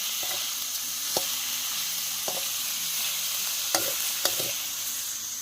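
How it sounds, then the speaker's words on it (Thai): Large shrimp frying in a pan make a continuous, even sizzle, broken by several sharp scraping knocks of a utensil stirring against the pan, with no talking. "ทอดกุ้งให้ มันสุกหน่อย"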